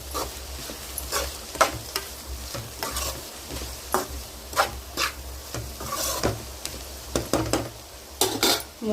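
Cabbage fried with salt is stirred in a pan, a spoon scraping and rasping in irregular strokes over a soft continuous sizzle, close and fairly quiet with no talking.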